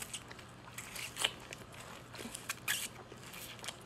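Biting and crunching into a frozen berry-flavoured Skittles ice pop, close and intimate, with several sharp crackly bites and soft chewing in between, quiet overall.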